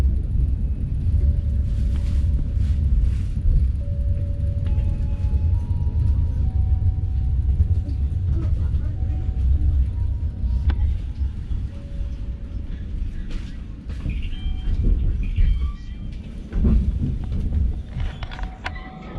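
The Walahar train pulls into Cikampek station, where platform construction is under way, with a loud steady low rumble inside the carriage, brief squeals and clanks, and a fading roar as it slows.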